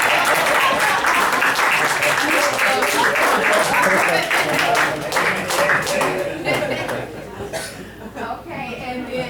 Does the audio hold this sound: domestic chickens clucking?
no